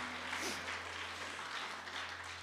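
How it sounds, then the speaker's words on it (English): A church congregation applauds during a Sunday morning service, a faint, distant wash of many hands clapping over a low steady hum. "Why don't you guys give the Lord a great clap this morning?"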